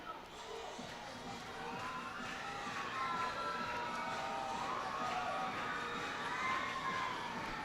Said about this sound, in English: Crowd getting on their feet here for Corridor